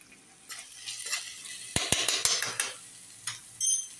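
Chicken being stirred with cumin and coriander powder in a hot pan on a gas flame, giving a steady low sizzle broken by a few sharp scrapes and clinks of a spoon against the metal.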